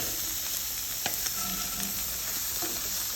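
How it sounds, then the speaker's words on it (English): A pan of Viking porridge (grøt) with mushrooms sizzles steadily on the stove while a spoon stirs it, producing a soft continuous frying hiss with a few faint scrapes and clinks. "Give it another good stir."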